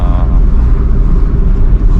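A 2003 Hyundai Accent is on the road toward Ooty, with a loud, steady engine and road rumble heard from inside the car the whole time.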